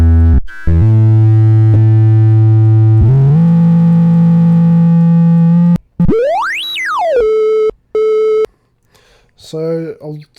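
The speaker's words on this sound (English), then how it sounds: "you can hear that we're getting some pretty gnarly distortion" Loud buzzing Tranzistow synthesizer tones with harsh, gritty wave-shaping distortion, holding steady notes before a rising and falling pitch sweep and short clipped bursts.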